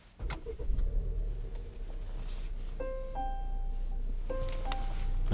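A 2019 Volvo S90 T5 fires up from a twist start control: a brief click and cranking, then a quiet steady idle inside the cabin, with short chime tones following.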